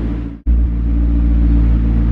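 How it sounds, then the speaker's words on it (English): A McLaren 650S supercar engine pulls away, a steady loud low rumble with a brief dip near the start before the drone returns and holds. "I'm gonna head out with the McLaren."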